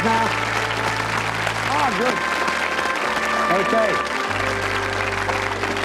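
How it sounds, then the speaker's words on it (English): A studio audience on a 1986 game show claps and cheers continuously, steady and full, while a voice speaks briefly over it and light music plays underneath. "Give them a round of applause, folks."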